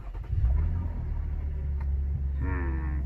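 A Jeep Gladiator Overland fitted with a new cold air intake starts up and settles into a steady, close low rumble and idle, with a brief higher whine near the end.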